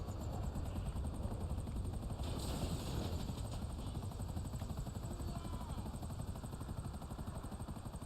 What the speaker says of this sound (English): Why did your helicopter stop?